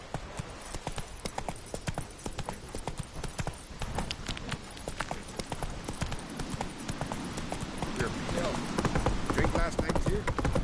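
Geralt's horse Roach trots in The Witcher 3 in the Skellige isles, a brisk close clip-clop of hooves that runs throughout with a voice speaking over it.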